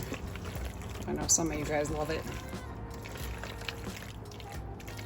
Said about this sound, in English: dump that cheese sauce back onto the noodles and mix it all up